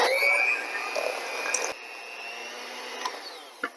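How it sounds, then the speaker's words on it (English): An electric power mixer on low speed creams cashew cream cheese and sugar in a bowl, giving a steady, close motor whine with a slight change in pitch partway through and a few small knocks near the end. "so we are going to use a power mixer"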